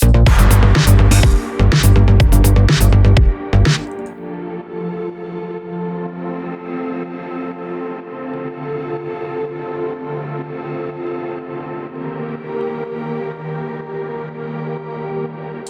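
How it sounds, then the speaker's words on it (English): Soft sustained synth pads hold pre-chorus chords in a remake of a song, after a short burst of loud full mix, the pads ringing on alone with a smooth, slowly shifting texture. "For the pre-chorus we have some pads playing the chords which sounds like this."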